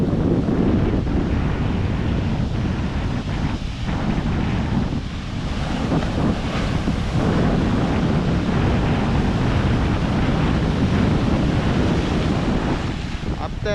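Rough sea waves surge and crash onto the shore during a violent swell. Constant loud roaring surf mixes with heavy wind buffeting the microphone, with no break throughout.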